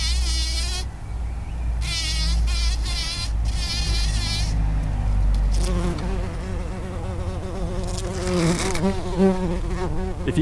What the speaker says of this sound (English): the buzzing of a bee got my attention